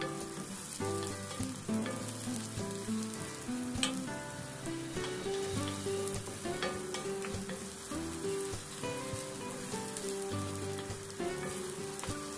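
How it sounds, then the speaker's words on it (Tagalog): Garlic and onion sizzling steadily in a hot pan, a continuous frying hiss with occasional stirring scrapes, close and fairly loud, with background music running throughout. "so igisa-gisa natin yan"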